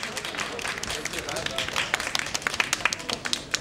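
Steady applause from an audience, dense clapping throughout with sharper individual claps near the end.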